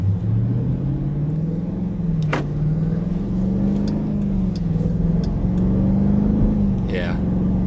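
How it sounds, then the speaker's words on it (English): Exhaust of a 2018 Dodge Durango SRT heard from inside while driving, a steady deep rumble that rises and falls gently, with brief clicks and a faint sweep over it. "it's definitely got a nice exhaust note to it."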